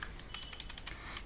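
A brief, quiet run of key presses as a command is typed on a computer keyboard, with soft, irregular clicks close to the mic.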